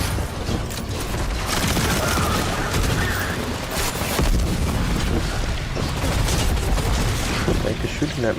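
Gunfire and explosions in the Destiny 2 Renegades campaign, a dense loud barrage of shots and booms running throughout, with a voice talking over the battle.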